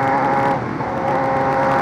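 A car engine revs hard close by with a loud, steady, tonal roar that dips briefly and then pulls back up, heard alone without speech.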